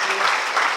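A church congregation applauding during a worship service, a dense, loud burst of many hands clapping together, brief and continuous.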